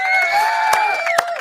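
A crowd at a rap event cheers and whoops loudly, with high sustained shouts and a couple of sharp bursts, the noise close and continuous throughout.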